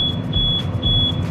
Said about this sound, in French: Il y a l'alarme d'une Tesla qui sonne.